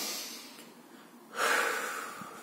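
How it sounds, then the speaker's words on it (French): One person takes a deep breath, with a soft exhale trailing off and then a strong, close, airy inhale through the nose that fades slowly. "tranquille, on respire bien fort."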